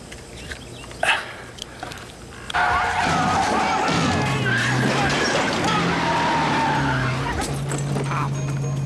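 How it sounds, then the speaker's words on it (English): Car tires squealing under hard braking, a long screeching skid that sets in after a few seconds and holds loud and sustained, following brief bumps and a shouted voice. "Stop the car! Hit the brakes"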